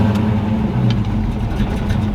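A car engine cold-starting and settling into a steady, loud, low rumble close by, with no voices over it.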